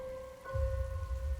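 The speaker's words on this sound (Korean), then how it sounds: "하나 둘 친구들을 보내고 가는데 빗방울이 떨어지기 시작했다." Rain beginning to fall at night on a walk home, a soft low patter of drops that swells in partway through, under a steady tonal hum.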